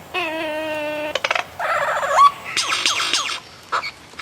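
A lyrebird calls in a rapid run of mimicked sounds: a clear harmonic whistle, then warbling trills, sharp chirps and sweeping electronic-like tones, loud and close, with no voices.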